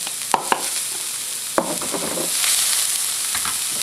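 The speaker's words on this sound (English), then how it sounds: "Next thing we're going to do is we're going to saute our onions." Onions sauteing in a pan: a steady, close sizzle with a few sharp clicks and scrapes of stirring, no voices.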